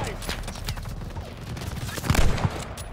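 Gunfire in the Call of Duty: Vanguard mission Operation Tonga, rapid bursts and scattered shots with a heavier volley near the end, mixed with voices shouting in battle.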